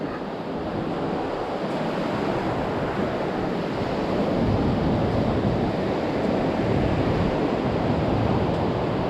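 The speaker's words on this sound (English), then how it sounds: "I think the tide's coming in now." Ocean surf at Cathedral Cove, Hahei, Coromandel, with the tide coming in makes a continuous loud wash of breaking waves, mixed with wind rumble on the microphone.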